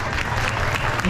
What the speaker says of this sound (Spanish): fuertes aplauso para